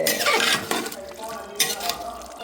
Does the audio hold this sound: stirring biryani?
yes